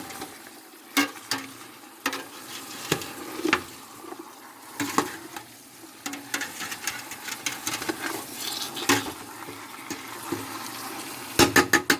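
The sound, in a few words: garlic frying in a pot for chicken noodle soup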